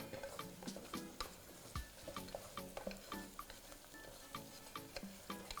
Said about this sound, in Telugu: కొంచెం పసుపు కూడా వేస్తున్నాను ఇప్పుడు దీన్ని మంచిగా మిక్స్ చేసుకుందాం